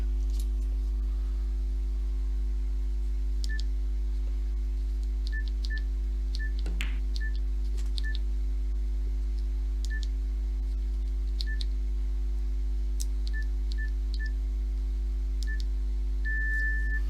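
Bedside phone giving short electronic beeps and key tones while its alarm setting is checked, scattered single and paired bleeps over a steady low hum, with no talking.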